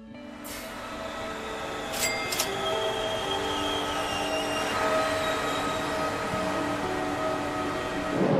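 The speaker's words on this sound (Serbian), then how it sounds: "odlučio sam da kući idem vozom." A passenger train travels from Iași toward Timișoara with a continuous rumble of wheels on rails, a faint high squeal and steady clatter heard from inside the carriage, with no talk.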